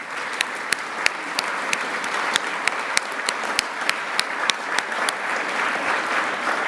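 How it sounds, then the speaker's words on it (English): Audience applause at a state governor's arts awards ceremony, honoring a standing arts council: a steady wash of many hands clapping, with a few sharp, close individual claps standing out through the crowd noise. "would you please stand so we can just give you a round of applause"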